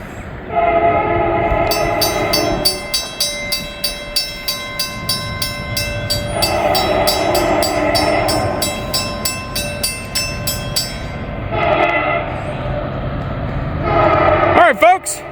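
A freight train passes at a Walton siding, its horn sounding in long sustained blasts, steady rail rumble and rhythmic clickety-clack beneath, with a final horn burst near the end.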